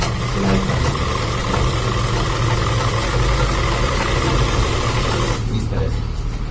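A sewing machine stitches gents' underwear fabric with a steady motor whir and needle chatter running for several seconds, then cutting off near the end while a person talks over it.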